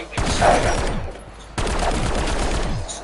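Rapid bursts of gunfire from a weapon in the video game Black Ops 7 Zombies, two sustained volleys of loud, dense shots with a short break between them.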